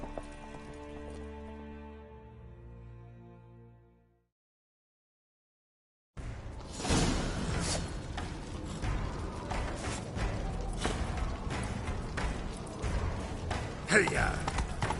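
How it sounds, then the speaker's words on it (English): Video game horse hooves clip-clopping at a quick gallop, close and fairly loud, with creaks and a low rumble of movement; soft music plays and fades out before the hoofbeats begin. "Grab a horse, we'll chase him down."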